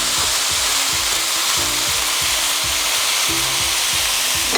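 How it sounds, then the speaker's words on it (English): Ground beef, a couple of pounds, frying in a preheated skillet, with a steady loud sizzle throughout and repeated soft scraping strokes of stirring layered on top. "So to my preheated skillet, I have a couple pounds of ground beef."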